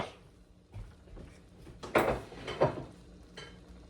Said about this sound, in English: Once our butter is all melted, we're going to add in our spinach.